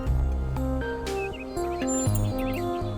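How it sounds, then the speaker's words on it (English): Birds chirp outside a door in a video game, with brief high whistled calls scattered over a loud, steady musical score that dominates the scene. "Do you hear the birds chirping outside the door?"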